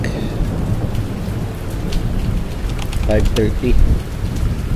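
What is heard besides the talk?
rain and thunder on a fishing boat at sea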